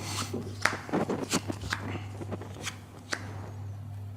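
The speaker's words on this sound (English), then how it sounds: "the face down cards, turn them face up" Light papery flicks and soft slaps of face-down playing cards being turned face up on a table during a card magic trick, several quick taps in a loose rhythm, fairly quiet.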